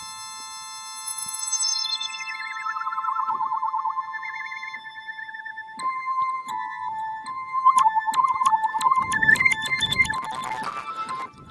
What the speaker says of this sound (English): Okay, a little minor chord.